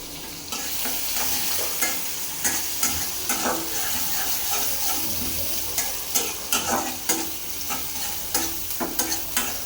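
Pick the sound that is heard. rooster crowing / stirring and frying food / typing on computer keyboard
stirring and frying food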